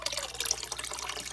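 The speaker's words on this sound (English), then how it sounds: "First I'm going to pour this water out" Water from a hang-on-back aquarium filter is poured into a bucket, giving a soft, steady, splashing trickle that runs unbroken and fairly quiet throughout.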